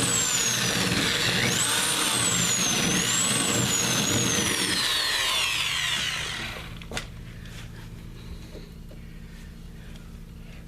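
A drill bores out spot welds on a car's quarter panel, a loud, close whine that rises and falls in pitch for about six seconds before cutting off, leaving quiet shop ambience with a few small knocks.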